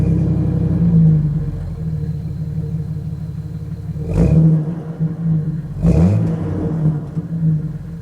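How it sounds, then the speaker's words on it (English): A Jeep TJ engine with a Thrush muffler idles low and steady, then revs sharply twice with deep, throaty bursts that settle back to a burbling idle. "It has a thrush muffler,"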